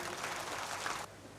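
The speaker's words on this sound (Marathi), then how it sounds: "सगळ्यांनी टाळ्या वाजवून" Crowd applause at the unveiling ceremony of a Gautama Buddha statue in Nerul, Navi Mumbai, a moderate burst of clapping from the gathering that cuts off abruptly after about a second.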